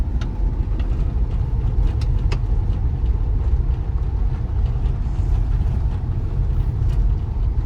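Steady low engine drone of an old high-mileage Maruti Swift running smoothly after a carbon cleaner treatment, heard from inside the car as it pulls away in second gear, continuous with faint higher clicks.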